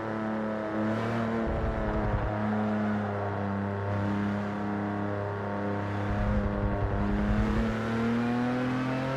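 A V6 race car engine in Forza Motorsport 7 holds a steady, raspy, fairly high-pitched drone throughout, with slight shifts in pitch and no voices.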